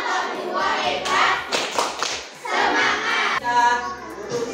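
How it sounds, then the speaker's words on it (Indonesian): Classroom applause for a student group in a sixth-grade class, a busy burst of clapping and tapping with children's voices mixed in, loud and close throughout. "Tepuk hebat untuk kelompok 2."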